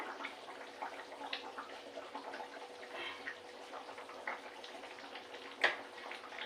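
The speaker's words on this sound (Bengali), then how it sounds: "দেখুন এবারে তরকারির ঝোলটা ফুটে গেছে" Fish curry gravy with bottle gourd greens simmering in a pan, a faint, steady bubbling hiss with one brief louder clink near the end.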